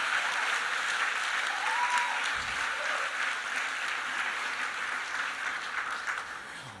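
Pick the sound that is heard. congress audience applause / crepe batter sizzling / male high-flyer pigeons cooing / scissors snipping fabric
congress audience applause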